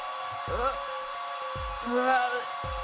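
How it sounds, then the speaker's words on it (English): A blow dryer dries plaster in the video game Apollo Justice, making a steady whirring hum with brief electronic chirps rising over it. "Just press space to blast it with that dryer."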